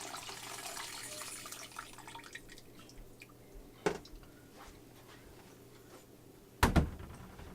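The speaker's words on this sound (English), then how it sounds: "Give it a second just to finish dripping out." Bone broth drips and trickles slowly through cheesecloth, with scattered small drops and two sharper splashes standing out against a quiet background.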